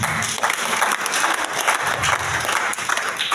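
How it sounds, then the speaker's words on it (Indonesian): A church congregation applauds with steady, dense clapping throughout, moderately loud and fairly close. "Tepuk tangan untuk kebenaran."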